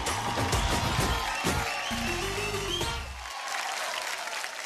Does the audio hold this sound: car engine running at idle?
no